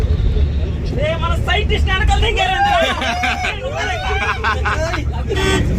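A bus runs along a highway toward Chennai airport, heard from inside as a steady low engine and road rumble beneath constant chatter and babble from passengers.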